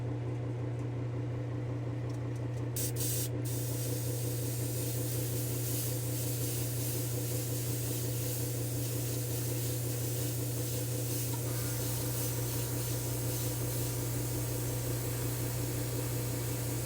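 Steady, loud hiss of a spray gun laying a silver sealer coat onto a taped-off van body, running continuously without pause under a constant low compressor-like hum, with a brief burst of brighter noise near the start.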